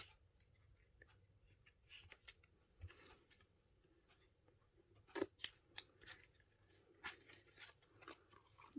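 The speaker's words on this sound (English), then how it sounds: "Grab out my snips." Metal snips cut through paper with soft, close crunching snips in an uneven cluster, heard alone in a quiet room.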